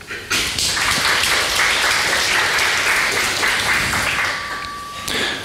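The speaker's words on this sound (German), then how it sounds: "Ein Applaus." An audience at a FOSSGIS 2024 conference talk applauding, a sudden onset of dense, loud clapping that holds steady for several seconds, then thins out and ends with a few final claps.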